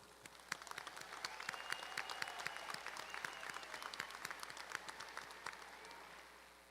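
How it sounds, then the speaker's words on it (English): Audience at a high school graduation ceremony applauding steadily, a dense wash of many hands clapping that swells and holds in a large hall, moderately distant with no speech over it. "Let's give them all a round of applause."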